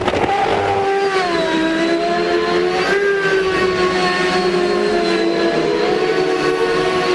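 A Champ Car race car doing celebratory donuts after the 2007 Long Beach Grand Prix, a loud sustained engine whine rising and falling in pitch under crowd noise.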